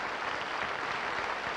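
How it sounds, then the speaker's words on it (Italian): Applause from a studio audience at a live Rai television broadcast in Pisa, a dense steady wash of clapping filling the whole short stretch at an even level, with no talk over it. "almeno 5 minuti di applauso"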